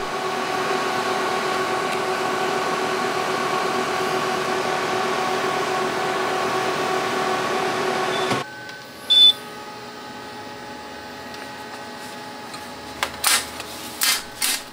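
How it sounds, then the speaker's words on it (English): Laser cutter running at full power on craft foam, a steady mechanical hum and whir lasting about eight seconds, then cutting off abruptly, followed by a short beep and a few sharp clicks and knocks. "The laser didn't quite make it all the way through."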